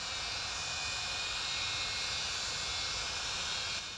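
Steady roar of a giant chartered Antonov cargo plane at Kigali International Airport, a continuous broadband jet rumble, fairly distant and even, with no voices.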